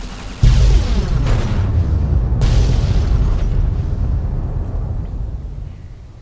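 An incendiary grenade goes off in Fallout: New Vegas with a sudden loud boom, followed by a long, rumbling roar of burning fire that slowly fades over several seconds, with no talking.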